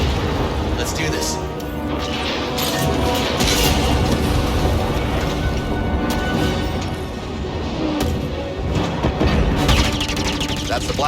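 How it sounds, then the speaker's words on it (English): Blaster fire in the video game Star Wars Jedi: Fallen Order, with repeated booming shots and crashes in a dense, busy battle mix under in-game voices. "That's the blasters."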